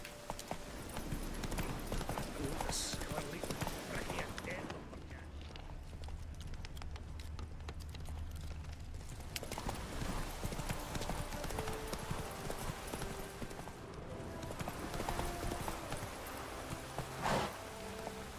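Hooves of the horse Roach clop steadily at a gallop through The Witcher 3 game world, the rhythmic beats running alongside rain-like ambient noise.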